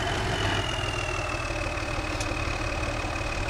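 An old tractor engine idles steadily in a video game, a continuous low rumble with a faint high whine and no change in pace throughout.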